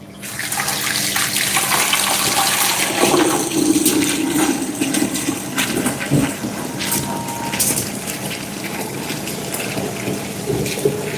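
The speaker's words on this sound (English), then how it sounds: "Let me get a pot on the stove filled with water so we can get our pasta water going" Tap water runs steadily into a pot for pasta on a stove in a working kitchen, a loud, close, continuous rushing with no talk over it.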